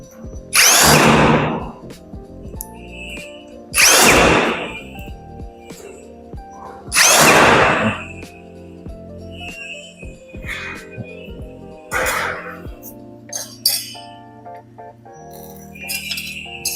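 Power drill driving bolts while a two-door wardrobe is assembled, three loud whirring bursts of a few seconds each followed by shorter quieter runs, with metallic clinks and handling noises between them.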